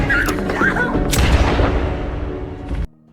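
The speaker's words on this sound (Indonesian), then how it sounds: "Trina mengambil pistol itu dan menembak ayahnya." A single loud pistol shot bursts out sharply and then rings away in a long decay, with earlier scene sounds and a voice before it.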